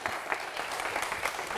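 A studio audience claps briefly on cue, a short burst of fairly soft, dense applause heard alone.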